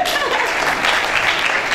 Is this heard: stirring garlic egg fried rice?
no